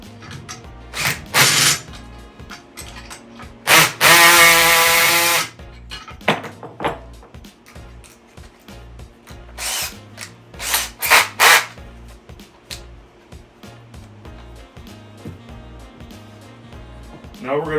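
A power tool tightens a lock nut on a receiver-mounted single-can garbage hook, letting out one loud sustained whirring burst midway, with short bursts and clanks around it and someone talking at times.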